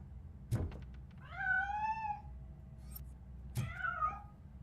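A cat in the video game RoboCop: Rogue City meows twice, each call drawn out and fairly clear, with a soft thud before each one over a low background hum.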